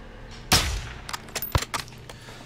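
Gunfire in the Call of Duty Modern Warfare 2 campaign on Hardened difficulty: one loud, sharp shot followed by several quieter, scattered cracks and thumps, with no talking.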